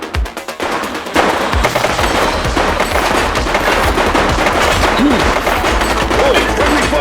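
Rapid automatic gunfire in the police game The Precinct, dense loud bursts of shots rattling continuously after a brief opening pop, with faint voices underneath.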